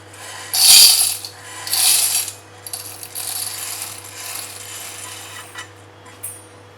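Roasted, cooled urad dal pours into a small mini mixie jar in two quick rattling bursts of dry grains, followed by lighter scattered clinks and shuffling of the jar.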